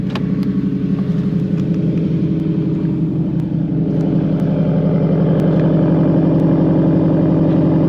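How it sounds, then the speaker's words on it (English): A tuned 400 hp Subaru STI four-cylinder idles steadily and loudly close by, its deep, uneven burbling rumble holding constant throughout with no voices. "This is definitely one of the best sounding 4-cylinders out there, bro."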